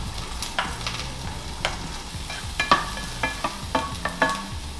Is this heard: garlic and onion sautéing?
yes